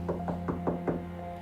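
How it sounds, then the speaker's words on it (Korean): Persistent knocking on a door comes in a steady run of about five evenly spaced raps, close and clear over a low background hum, with no talk, part of a Hong Kong late-night ghost tale. "계속해서 멈추지 않는 노크 소리."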